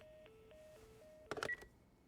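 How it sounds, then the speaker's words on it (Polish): In the video game The Last of Us Part I, a telephone is dialled: a run of alternating dial tones, then a brief burst of rapid keypad beeps, quiet and close with no talk. "Dzwonimy jeszcze raz"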